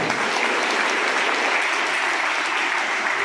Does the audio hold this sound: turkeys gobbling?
no